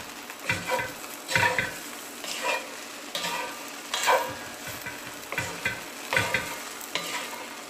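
Bread croutons tossed with salt in a hot frying pan, rhythmic scraping strokes of stirring over a soft sizzle, repeated roughly every second, close and without voices.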